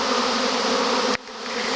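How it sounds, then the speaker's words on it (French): A swarm of honeybees buzzes over brambles, a dense close drone that cuts off abruptly after about a second and then softly returns, with no talk. "Tu vois, sur les ronces là, il y a plein d'abeilles qui se posent."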